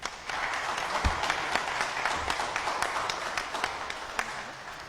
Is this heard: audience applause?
yes